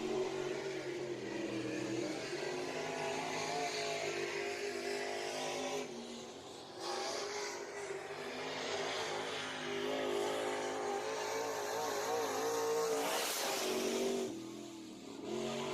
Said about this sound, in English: And Smith will take the green, working lap number 1.